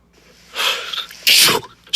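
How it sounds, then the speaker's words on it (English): A man with the flu sneezes once, loud and close, with a sharp intake of breath followed by an explosive burst. "here's a droplet from his sneeze"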